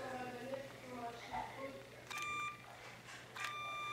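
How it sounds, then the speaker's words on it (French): A toy tractor's battery box is switched on, giving a few short electronic beeps that ring out between stretches of nearby talking in French. "Là, en fait, j'allume mon boîtier à piles."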